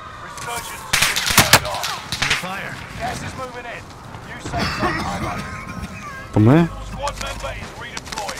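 Gunfire in the video game Warzone, sharp clustered shots near the start and scattered cracks later, mixed with people talking and a brief tonal sweep near the end.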